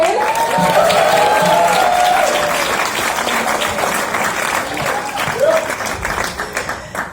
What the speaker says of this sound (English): if we could just get a quick round of applause for each person as I introduce them to the stage